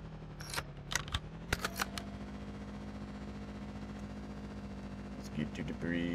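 A burst of sharp explosive cracks and booms from the video game Trace Hunters in quick succession, then a steady engine-like drone with a brief rattling flurry near the end.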